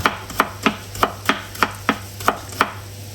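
A knife slices an onion into thin strips on a cutting board, nine crisp evenly spaced cuts landing about every third of a second, close and clear with no talking.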